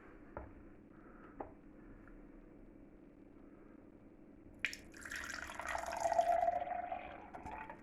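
Water poured into a bowl of flour and ingredients for folded pizza (scaccia) dough, a soft near trickle that swells into a steady splashing stream after a few quiet clicks and knocks.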